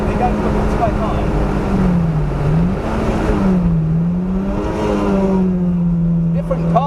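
A race car with a Toyota 2ZZ engine runs at full power on the Donington circuit, a loud, buzzing in-car engine note rising and dipping in pitch through gear changes and revs, with voices talking over it.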